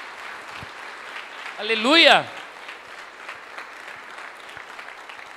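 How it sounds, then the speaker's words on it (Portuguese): A church congregation keeps up a soft, steady patter of clapping, while a voice briefly calls out loudly over it midway through. "Aplauda o Senhor Jesus."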